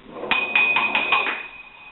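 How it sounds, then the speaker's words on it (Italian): A body slides down an inclined plane, striking a row of small bells one after another. Five quick bright rings come closer together as it speeds up, and a steady ringing tone lingers afterward. "Spero abbiate sentito che il suono dei campanelli è aumentato come frequenza man mano che il grave cadeva lungo il piano inclinato."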